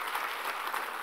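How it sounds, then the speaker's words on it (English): Steady round of applause from a keynote audience, a dense even patter of many hands clapping throughout, moderately loud and uninterrupted. "I would like really request a huge round of applause for him"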